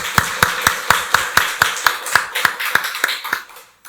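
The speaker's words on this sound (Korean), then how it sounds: "박수로 하나님께 영광 돌리겠습니다." A church congregation at a Korean Sunday service claps in tight unison, with about fifteen crisp, evenly spaced beats close by that fade out at the end.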